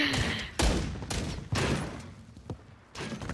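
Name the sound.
gunshots in video game gunfight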